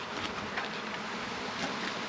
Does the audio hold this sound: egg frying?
no